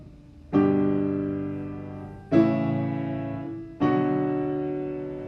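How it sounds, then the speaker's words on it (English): A deceptive chord progression is played on a sustained keyboard or piano: three full chords struck one after another at slow, even intervals, each ringing out and fading before the next. "Another deceptive progression."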